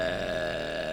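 A girl lets out one long, drawn-out burp, loud and close-up, with a steady rasping tone that fills the whole moment and no talking.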